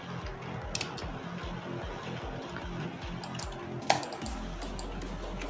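Keys on a computer keyboard clatter steadily, used as a mouse-and-keyboard setup for a mobile game, with one sharper click near the end and a low hum after it.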